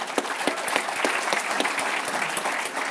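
An audience at the CPAC Australia 2019 conference applauds a speaker, a loud, dense burst of clapping that stays steady and close for the whole stretch.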